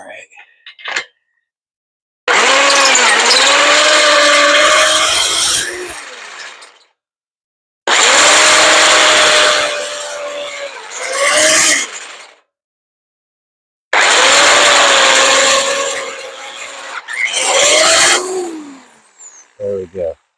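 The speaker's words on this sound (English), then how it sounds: "The last of the drill holes." A power drill bores holes in a boat trailer during roller installation, whining in three long loud runs with a shorter burst after each, separated by silences.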